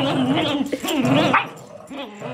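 A dog makes strange, warbling whines and growly vocalizations up close during a rope tug of war, with a voice briefly talking over them.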